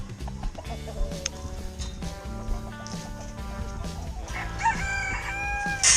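Chickens cluck and chatter together inside a coop while a rooster crows, a busy, continuous mix of bird calls in an enclosed space.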